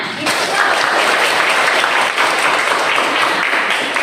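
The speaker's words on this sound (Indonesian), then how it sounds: "Tepuk tangan." Classroom applause, a short burst of many hands clapping together, close and fairly loud, holding steady for a few seconds with a little voice mixed in.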